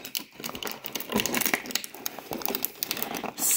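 A cardboard window on a Schleich advent calendar being pried open, giving brief close crinkling, tearing and tapping sounds in quick irregular bursts, fairly quiet.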